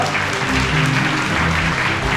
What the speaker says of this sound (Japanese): 盛大な拍手をお願いします